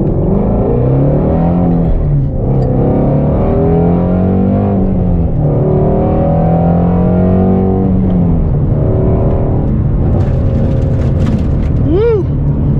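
A Shelby Mustang GT350 Cobra fitted with a K&N intake accelerates hard on a gravel-strewn road, its engine note rising in loud, sweeping pitch climbs, with people talking and whooping inside the car throughout.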